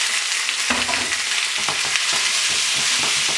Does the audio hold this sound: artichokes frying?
yes